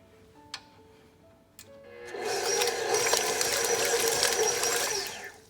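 A KitchenAid stand mixer churns cream into butter: a couple of faint clicks, then the motor starts up and whirs loud and steady for about three seconds before winding down.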